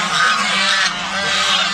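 Farm geese honk loudly and close by in a nasal, overlapping burst that lasts the whole moment.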